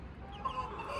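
A farmyard rooster clucks nearby, a short burst of low throaty clucks with faint background noise, lasting about a second.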